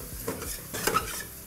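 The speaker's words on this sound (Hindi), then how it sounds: "और भुनाई चालू रहनी चाहिए।" Spices such as Byadgi chilli and a little coriander roasting in a pan for butter chicken, with soft stirring scrapes and a quiet sizzle, plus an occasional sharper clink of a utensil, and no talking.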